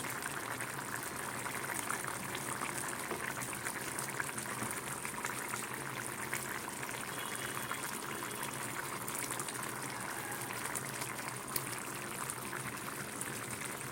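Prawns dropped into a cooking pot of salted water with potatoes and taro: a steady, close bubbling and watery rush that continues evenly throughout without voices.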